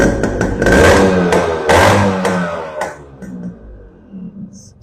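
A motorcycle exhaust fitted with a brass core silencer revs in sharp bursts, several loud throttle blips rising and falling before settling to a lower, uneven idle, close and fairly loud.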